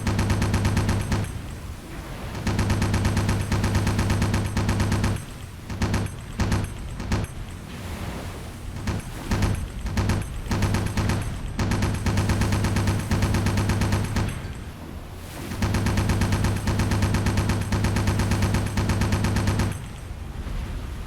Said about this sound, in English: A couple of rounds from this gun, and she doesn't seem to be bothered at all.